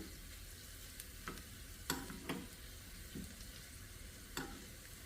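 Black cumin seeds tempering in hot oil for dal, a quiet steady sizzle broken by a few sharp pops and clinks of a utensil stirring in the pan.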